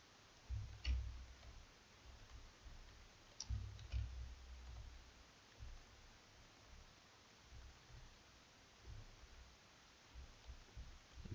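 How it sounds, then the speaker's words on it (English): A computer mouse clicks during photo retouching: a few faint, sharp clicks spaced a few seconds apart over quiet room hiss, with no talk. "If you hear the clicking, it's because I'm using a mouse."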